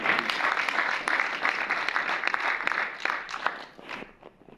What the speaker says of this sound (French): Et cela mérite d'être applaudi.